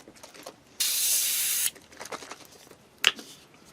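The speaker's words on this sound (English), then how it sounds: "So I've done a quick clean of the airbrush." Airbrush blasting a steady hiss for about a second while being cleaned, close and loud, followed by small clicks and handling noises, with no talking.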